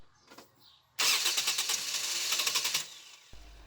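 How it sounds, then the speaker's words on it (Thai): A 2014 Toyota Altis engine with newly replaced fuel injectors cranks, catches and starts with a sudden loud burst, then runs roughly at a steady, close level for a couple of seconds before cutting off abruptly. "ทดสอบเครื่องสตาร์ทเครื่องยนต์"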